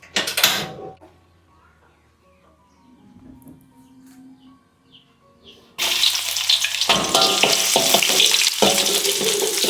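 Garlic, shallots and bird's eye chilies for stir-fried water spinach hit hot oil in a pan, bursting into a loud, close, steady sizzle after a quieter stretch of kitchen handling sounds.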